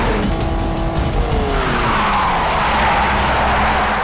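Tires squeal loudly during a car chase in a Hindi-dubbed Tamil action movie, with sliding, descending screeches over a continuous roaring engine and road noise, sustained throughout with no talking.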